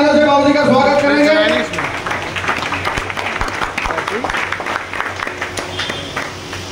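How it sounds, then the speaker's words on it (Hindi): A crowd at a political gathering in Gurugram applauds to welcome a guest, a dense patter of clapping that swells after a brief announcing voice and continues with voices mixed in. "सभी जोरदार तालियों से बाबू जी का स्वागत करेंगे"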